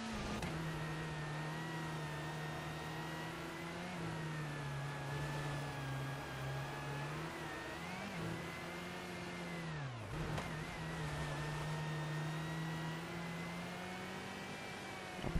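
Mitsubishi rally car engine in the racing game WRC 4, droning steadily at high revs with pitch dips and rises through gear changes and corners, loud and continuous without talk.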